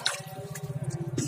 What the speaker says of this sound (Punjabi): ਬਾਕੀ ਅਸੀਂ ਪਾਣੀ ਲਾਉਂਦੇ ਪਏ ਆ